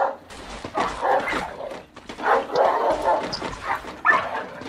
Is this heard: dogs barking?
yes